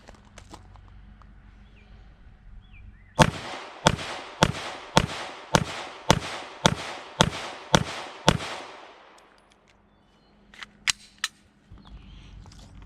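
Nine sharp, evenly spaced gunshots from a Roland Special Agency Arms 417 rifle firing 124 grain ball ammunition, loud and close with brief decaying echoes, followed by a few fainter clicks.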